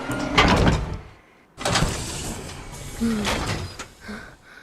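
A door opens in Minecraft during an SCP Foundation map: two close, loud wooden creaking swings separated by a brief pause, with a lighter clack trailing off at the end.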